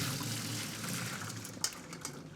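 Boiled potatoes tipped out of a pot into a colander, giving a steady wash of running water and splashing throughout, with a brief clatter near the end.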